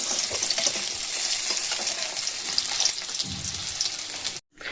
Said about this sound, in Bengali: ইলিশ মাছগুলোকে একটু হালকা ভেজে নেব ঠিক এইরকম করে মাছগুলোকে আমি ভেজে নেব সবগুলো